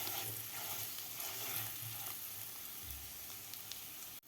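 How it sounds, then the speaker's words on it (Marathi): Baby potatoes sauté in an oily masala, giving off a steady, close sizzle with soft stirring and scraping throughout. "बटाटे व्यवस्थित परतून घ्यायचे आहेत."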